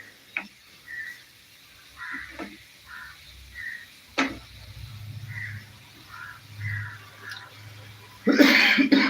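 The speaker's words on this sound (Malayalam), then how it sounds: "ചുമ പിടിച്ച രൂപമാണ് കേട്ടോ" A person coughs a few times, short, separate bursts spread apart in a quiet room, followed by a sudden loud hissing noise.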